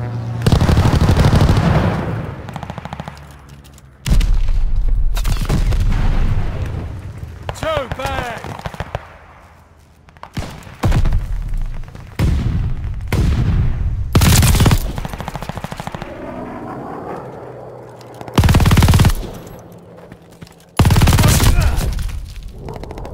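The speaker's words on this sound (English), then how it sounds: "Strafe them down! Allies called an airstrike." Airstrike strafing runs with machine-gun fire and explosions in Call of Duty: Vanguard, loud bursts recurring throughout amid shouted voice callouts.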